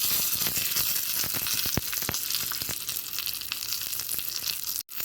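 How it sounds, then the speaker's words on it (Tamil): Chana dal and urad dal frying in oil after mustard seeds have popped, a dense, even sizzle with scattered sharp crackles and pops, close and steady, and a brief dropout near the end. "கடுகு நல்லா பொரிஞ்சு எடுத்து இப்போ வந்து கடலைப்பருப்பு, உளுத்தம்பருப்பு எல்லாம் அப்படியே போட்டுக்கலாம்."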